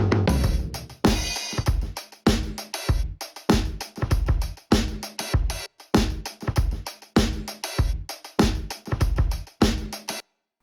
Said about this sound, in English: I took the drum kit and then I compressed and distorted the hell out of it.